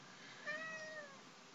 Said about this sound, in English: Cat wants to be fed, but he has to wait a few minutes.